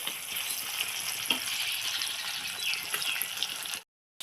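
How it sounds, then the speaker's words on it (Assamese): Onions and green chillies fry in hot oil with a steady, close sizzle and light stirring crackles, running evenly before cutting off abruptly near the end. "এইখিনি মই ভাজি ল'ম অলপ ৰঙচুৱা পৰালৈকে"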